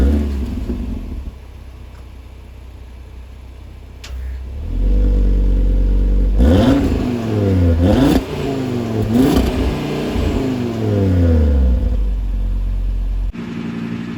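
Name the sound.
Cupra Formentor VZ5 five-cylinder engine running and revving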